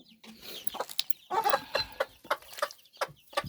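Prostyakovski chickens cluck in a village yard, a busy run of short, sharp clucks and squawks close by, coming in quick irregular bursts.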